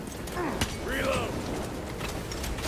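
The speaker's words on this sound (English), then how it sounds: "Reload!" A weapon being reloaded in a video game: a couple of sharp mechanical clicks and clacks, one early and one near the end, over a steady background with muffled voices and callouts.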